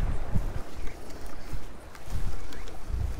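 Gusty wind buffeting the microphone on a rocky seashore while fly fishing for kahawai, low rumbling bursts that rise and fall unevenly, with faint surf hiss behind; no talking.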